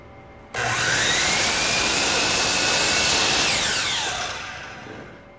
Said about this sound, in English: So now we're at the miter saw and I have my mark where I'm going to cut that.